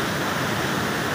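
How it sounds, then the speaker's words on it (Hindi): Water gushes and sprays at a waterfall, a loud, continuous broadband roar that stays steady and close throughout with no other sounds standing out. "काफ़ी पानी आ रहा है, फुहारा उड़ रहा है, हम लोग भीग रहे थे"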